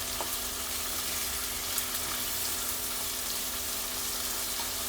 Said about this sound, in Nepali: खुर्सानी र क्याप्सिकम फ्राई गर्दैछु साथीहरू है।